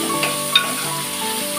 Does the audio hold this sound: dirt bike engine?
no